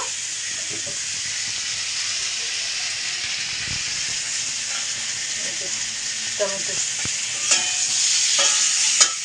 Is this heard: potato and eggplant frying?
yes